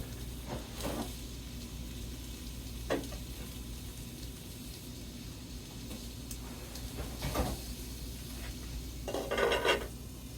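Pots, pans and a lid clatter on a kitchen stovetop, a few separate clanks and scrapes spread across a steady low background hum, with a busier rattle near the end.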